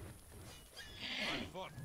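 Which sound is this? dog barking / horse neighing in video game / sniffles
horse neighing in video game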